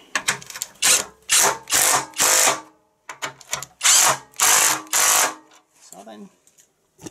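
Power drill driving self-tapping screws into the frame of a Briggs & Stratton engine, several loud bursts of whirring drilling in quick succession with short pauses, a person speaking between them.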